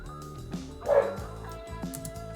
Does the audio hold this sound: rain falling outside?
no